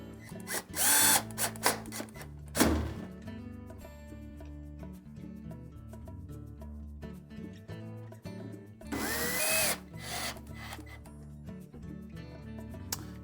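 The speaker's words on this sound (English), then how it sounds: "Then we'll reinstall the 3 screws that we moved across the back of that console" A power drill drives screws into the back of a Whirlpool washer console, with two loud, brief bursts of whirring and a sharp knock between them against a quiet workshop background.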